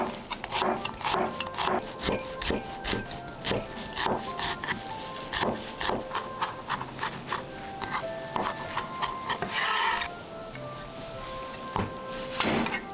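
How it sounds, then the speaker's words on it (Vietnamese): A knife chops rapidly and repeatedly against a cutting board, mincing shallots in quick uneven bursts of sharp knocks. "Củ hành tím này thì mình băm nhỏ ra."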